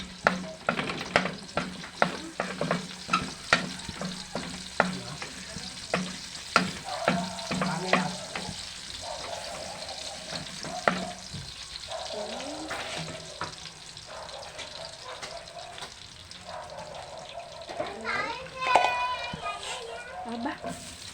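Garlic frying in a pan while being stirred for chicken pocherong, steady sizzle broken by repeated clacking utensil strikes against the pan, with a person talking and children's voices now and then in the background.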